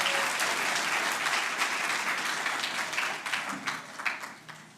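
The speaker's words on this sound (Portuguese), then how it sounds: "Palmas para os nossos irmãos aqui." A church congregation claps together during a sermon, a loud, even wall of applause that carries on steadily and then thins out into a few last individual claps.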